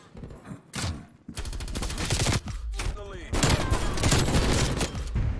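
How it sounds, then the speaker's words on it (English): Rapid bursts of nail gun fire from Call of Duty Cold War rattle loudly and densely, with a brief pause before the shots resume, while someone talks over the action. "That nail gun is like that."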